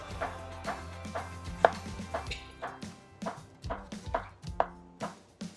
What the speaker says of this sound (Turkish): Şimdi mantarlarımı istediğim ölçüde e, doğrayacağım.